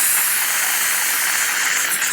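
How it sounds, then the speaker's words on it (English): Steam hisses steadily from a nozzle, a continuous loud spray held close throughout with no pauses or talk. "I spray steam"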